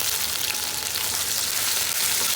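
Chopped onion fries in hot oil, a steady, dense hiss and crackle up close, continuous throughout with no talking.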